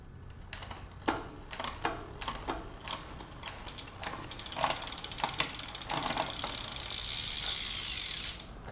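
A bicycle's gears being shifted on a home check, with a run of sharp mechanical clicks and ratcheting ticks that grow denser and louder toward the end, close up with no voices.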